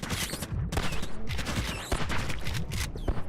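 SMG fire in the indie shooter Blood Vial, loud rapid bursts of automatic shots in quick clusters separated by brief gaps, filling the whole stretch without speech.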